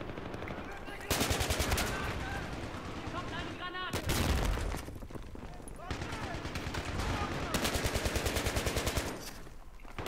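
Machine gun fire in Battlefield 3 comes in long, rapid, rattling bursts, loud and close. A short pause separates the first two bursts, and a longer sustained stream of rounds follows.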